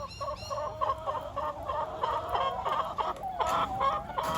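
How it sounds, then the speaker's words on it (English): Young pullets and hens cluck and chatter inside a chicken coop, a busy overlapping flock sound with steady, close, fairly loud calls and no talking. "A lot of lovely young pullets coming out there, or some of the younger hens."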